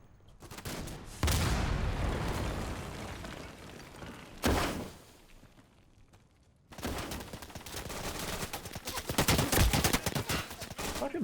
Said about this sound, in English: Fucking machine guns, man.